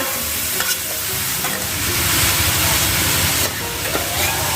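Sweet pork sizzling loudly as it is stir-fried in a hot pan, a steady close frying hiss with scraping and stirring running throughout.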